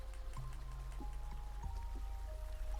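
Gentle flowing water in the video game Sea of Stars, a steady soft wash with light droplet-like detail running under layered game music tones.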